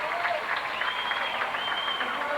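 A crowd applauds steadily after a dive at the 1993 IHSA girls' swimming and diving state finals, a dense sustained clapping that fills the indoor pool setting without breaks.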